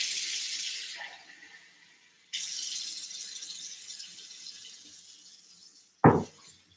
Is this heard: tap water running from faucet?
yes